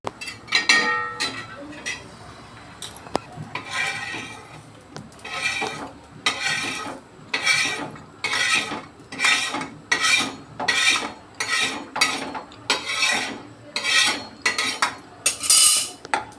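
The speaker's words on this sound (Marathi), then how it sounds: "हा पूर्ण मसाला आहे ना मी पाट्यावर वाटून घेणार आहे" Spice paste with poppy seeds is ground on a stone slab with a grinding stone, giving a close, rhythmic rasp and scrape. Repeated strokes come roughly every second, each a gritty rub.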